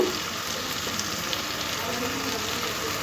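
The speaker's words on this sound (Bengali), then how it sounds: "টমেটো আর পেঁয়াজটা খুব ভালো করে একটু ভেজে দিতে হবে" Steady broadband sizzling of tomato and onion frying in a pan, with faint stirring scrapes, continuous and close throughout.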